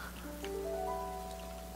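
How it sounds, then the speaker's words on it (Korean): Rain falls under a clear sky in Zelda: Breath of the Wild, a steady soft patter heard alone under gentle, sustained musical tones. "지금 맑은 하늘인데 비가 오고 있어요."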